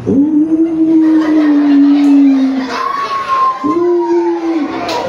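Children's voices imitate a dog howling at night in a school setting, two long drawn-out wavering howls, loud and close, with a higher voice sliding in between.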